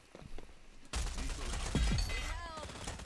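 Gunfire in the video game Rogue Company sounds as a sudden burst of rapid shots and impacts in a busy game mix, moderately loud after a quiet start.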